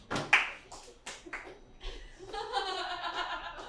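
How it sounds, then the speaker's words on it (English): A comedy-show audience claps along, with chuckles and laughter at the start, then a sustained burst of hand clapping, moderately distant and fairly quiet. "If you're an audience member and you know it, clap your hands"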